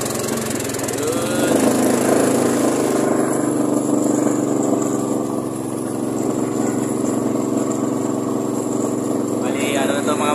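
A boat engine runs steadily and loudly up close, a constant droning hum with a brief change in tone partway through, while a voice says a single word over it.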